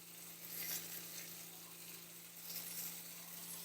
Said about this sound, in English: I'm just going to take these pork chops and lay them right on here, right like this.